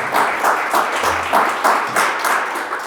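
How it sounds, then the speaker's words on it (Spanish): Audience applause for a magician at a fair, steady clapping from a crowd with pulsing swells, fairly loud and continuous with no talk over it. "Y pido un fortísimo aplauso para él"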